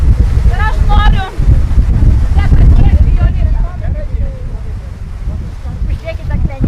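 Outdoor wind buffets the microphone at a school memorial gathering in Biržai, rumbling in gusts while people talk over it.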